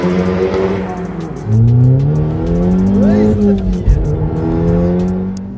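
An Audi S3 engine revs hard and loud with rising and falling pitch sweeps, close by, and a sharp pop near the end, with faint voices in the background.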